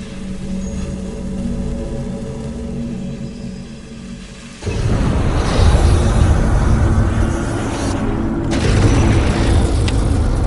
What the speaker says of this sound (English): The flamethrower fires burning gasoline over 60 feet and instantly incinerates the target Richard has set up.